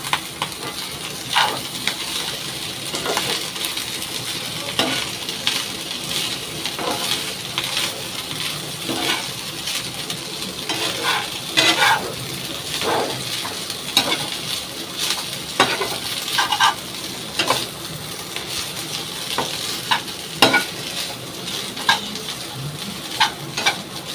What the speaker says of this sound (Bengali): এই খুন্তিটা দিয়ে মশলার মধ্যে নাড়াচ্ছি